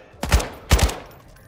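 Two heavy gunshots in the Call of Duty video game, about half a second apart, loud and booming with short tails.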